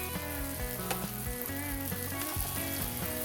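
A tilapia fillet pan frying gives a steady, faint sizzle with crackling pops, and a light clatter of a pan or utensil runs through it, with no talking.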